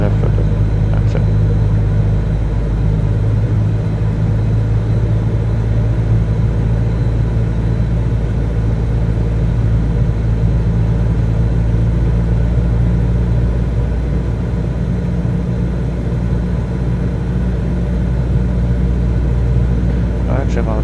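A Cessna 172 engine in Microsoft Flight Simulator drones steadily and loudly throughout, a constant low propeller-engine rumble with no clear change in pitch, while someone talks over it.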